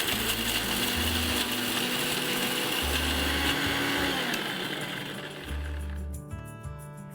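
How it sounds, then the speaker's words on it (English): An electric grinder whirs and rattles as it grinds overnight-soaked whole spices such as cinnamon and peppercorns into a fine paste, a loud close churning with choppy bursts that eases off toward the end. "now I'm going to grind this to a nice fine paste."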